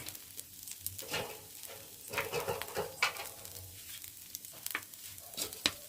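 A dosa sizzles on a pan over a low flame, a soft steady crackle broken by scrapes and taps of a spatula, close by and without talk.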